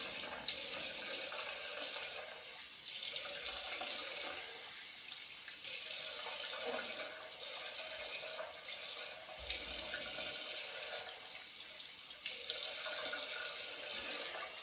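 A tap runs steadily into a sink as cold water rinses a face during shaving, a close hissing flow broken by a few gentle splashes and changes in the stream, with no talk.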